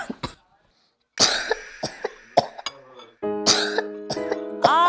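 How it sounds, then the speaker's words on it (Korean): Several harsh coughs in short bursts, close by, with brief pauses between them and some voices and background sounds mixed in. "기침하고"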